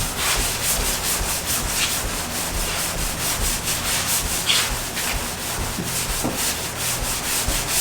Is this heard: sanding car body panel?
yes